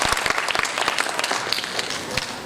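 An audience at a motivational seminar gives Bharat a short, loud, energetic round of clapping that holds steady throughout.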